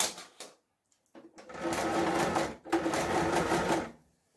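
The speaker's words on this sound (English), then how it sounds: "So start sewing." A sewing machine stitching a cold shoulder sleeve in light fabric: a short start, a brief pause, then two sustained, close, steady runs of rapid needle whirring, with no talk.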